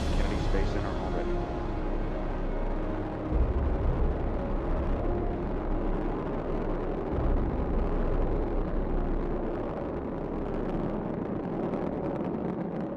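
Space Shuttle Endeavour's rocket engines roar during launch, a broad, sustained low rumble with crackling texture that stays loud and steady throughout, with a faint voice murmuring underneath.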